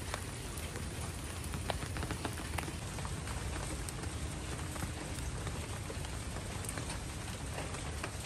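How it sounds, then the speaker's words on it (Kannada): Heavy monsoon rain pours down steadily outdoors, a dense, even hiss with scattered close drips and patters striking a surface, unbroken and fairly soft throughout. "ನಮ್ಮ ಊರಲ್ಲಂತೂ ಜೋರು ಮಳೆ"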